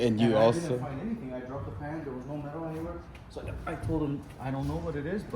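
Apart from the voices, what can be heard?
No distinct noise like a dog, phone or traffic.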